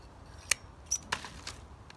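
Blade snips through a soft, partly rotten dahlia tuber: a few sharp separate clicks and crunches, close and fairly quiet, spaced out over two seconds with no talk.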